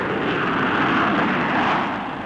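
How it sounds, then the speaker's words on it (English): A Vickers Valiant jet bomber roars through a rocket-assisted short takeoff and steep climb at a 1950s Farnborough air show, a loud sustained broadband engine rumble that holds steady and then begins to ease. "It gave a demonstration of the short takeoff and steep climb made possible by this extra thrust"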